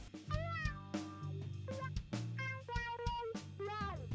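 A cat meows again and again in high, wavering cries over a low sustained musical hum, the calls coming close together.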